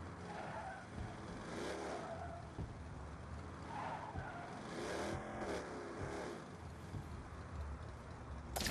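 A rusted-out car driven in Saints Row, with continuous engine drone, repeated tire skids and squeals, and revving surges that rise and fall over several seconds. No voices.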